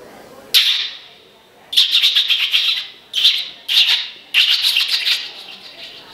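A person mimics a bird calling with sharp, high whistled chirps in several quick bursts, some as rapid trills, close and fairly loud with short gaps of quiet between them.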